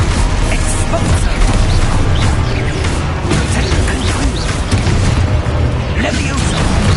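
A spell explosion booms in a Hogwarts video game, a dense, continuous roar of blasts and crashing effects filling the whole stretch, loud and close, with a voice calling spell names over the game audio.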